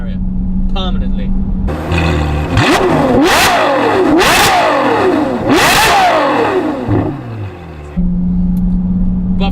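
A Novitec N-Largo tuned Ferrari F12 Berlinetta gives three loud, swelling revs that climb and fall back, preceded and followed by a steady idle, with a voice talking over the engine throughout.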